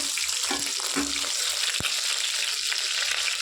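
Dried anchovies fry in hot oil left over from frying chicken, giving a steady, close crackling sizzle with occasional louder pops and light stirring clatter.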